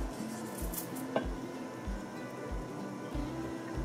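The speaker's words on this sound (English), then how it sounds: "You just want to stir that and let it sit for a bit." A spoon stirs full cream milk mixed with about 4.5 tablespoons of vinegar in a bowl, making soft repeated clinks and scrapes against the bowl's side, close and steady, with no voices.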